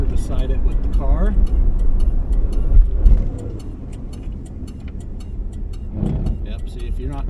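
A 1967 Plymouth Valiant 100 with a three-on-the-tree manual rolls in and slows, its engine rumble loud at first, then easing to a lower idle with light ticking, and a brief rise again near the end; talk runs over parts of it.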